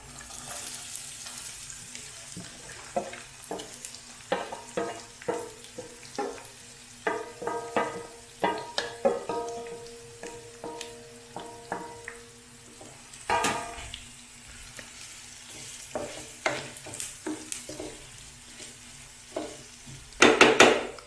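Chopped onion frying and being stirred in a pan while cooking octopus in the Maldives, a busy series of clattering stirs and scrapes over a faint sizzle, with occasional water sounds and a louder burst at the end.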